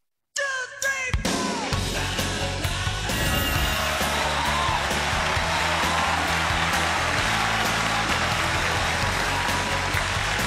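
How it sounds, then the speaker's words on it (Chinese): A studio audience on a televised job-hunting show welcomes a guest: after a brief sound at the start, dense, loud clapping swells and carries on evenly for about ten seconds. "掌声有请周佳琪。"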